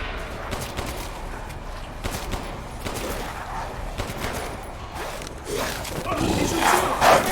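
Gunfire in the Resident Evil Village video game comes as several sharp shots in bursts over a busy game mix, with growling creature noises and a louder commotion near the end, while someone talks.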